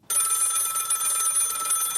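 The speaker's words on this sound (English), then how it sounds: "who could that be calling my rotary phone in 2020?" A rotary phone rings with a continuous bright metallic bell trill, loud and close, starting abruptly and sounding alone.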